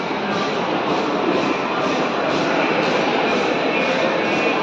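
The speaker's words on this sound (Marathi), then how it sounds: "2:45ला ट्रेन पनवेलला आली" Pune Express train number 22149 from Ernakulam Junction stands at Panvel station at night, giving off a steady, loud rumble of rail noise that holds unbroken throughout, with no talk.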